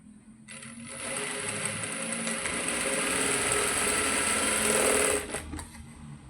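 A sewing machine stitches a cloth bag made from waste fabric, whirring in one steady run of about four seconds before stopping, close and alone with no voices.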